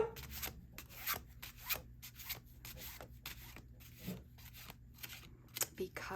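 Repeated papery riffling and rubbing of cross-grain textured oracle cards being shuffled lengthwise close up, in irregular bursts with brief pauses, fairly quiet.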